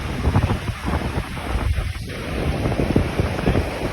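Cool evening wind at Tenneti Park Beach in Vizag during rain, a loud, continuous gusty rush buffeting the microphone over a soft wash of surf.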